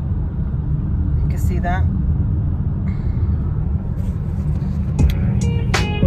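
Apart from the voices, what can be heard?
car driving in traffic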